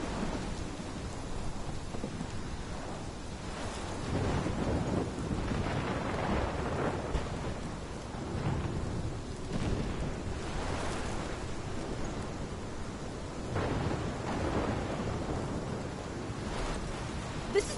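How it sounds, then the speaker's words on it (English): A thunderstorm in the video game Life is Strange, with steady heavy rain hissing throughout and deep rolling rumbles of thunder swelling and fading across the scene. "This is my storm."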